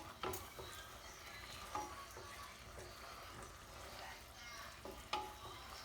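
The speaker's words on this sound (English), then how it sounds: "Just constant stirring." Food is stirred constantly in a hot pan, with a steady sizzling hiss and soft scraping and light knocks from the utensil scattered throughout, fairly quiet and close.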